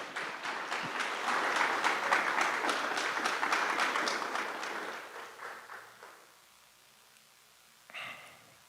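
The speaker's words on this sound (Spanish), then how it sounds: "Aplaudan al Señor Jesucristo," A church congregation at a Sunday service applauds together in a loud rhythmic burst, claps thinning and fading out after about five seconds, then a brief voice near the end.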